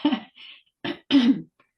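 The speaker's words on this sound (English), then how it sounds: "sorry, I keep coughing" A person coughs and clears their throat in a few short, rough bursts, close by, with brief silences between them.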